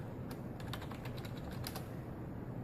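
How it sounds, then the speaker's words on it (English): Quick, light keystrokes on a computer keyboard pulled out from a classroom keyboard tray as a username and password are typed in, a close, irregular patter of clicks over a steady room hiss. "I'm going to log in with my regular Trent username and password"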